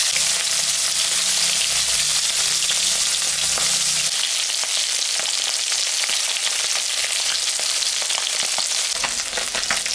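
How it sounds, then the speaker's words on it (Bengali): Tangra fish, salted and rubbed with turmeric, fries in hot oil with a loud, steady sizzle and crackle that continues throughout, easing slightly partway through, with no one talking. "তেল গরম হয়ে গেছে, এখন আমি মাছটা ভাজবো।"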